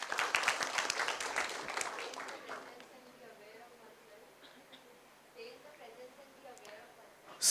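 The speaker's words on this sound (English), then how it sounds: "Huge round of applause" Applause from a group at a youth college talk on meditation, dense clapping at the start that fades within about two and a half seconds, leaving quiet room tone with faint voices.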